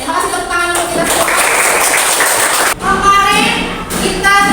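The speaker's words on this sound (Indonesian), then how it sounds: "tepuk tangan untuk kita semua" A primary school classroom breaks into group clapping, loud and close, mixed with children's voices and rhythmic patting, continuing for several seconds.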